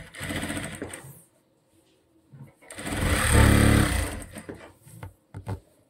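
Sewing machine running a straight seam on a sleeveless princess-cut blouse: a loud close whir in two bursts, a short one and then a longer one, with quiet handling between and a few clicks after.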